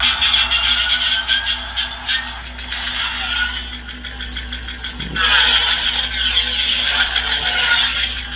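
A Qui-Gon Jinn lightsaber with a pod racing sound font effect roars continuously, a loud steady engine-like drone with a low hum beneath and rising, swooshing bursts around the middle.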